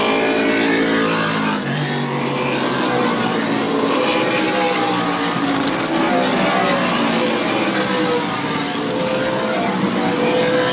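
Race cars roar around the half-mile New Smyrna Speedway short track during the Clyde Hart Memorial 100, a loud, continuous dense wall of engine noise from a tightly packed field with shifting pitch as cars pass.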